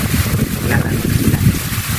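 Strong wind blowing at sea during a fishing trip, a loud steady roar of gusts buffeting the microphone with low rumbling water noise beneath, continuous throughout.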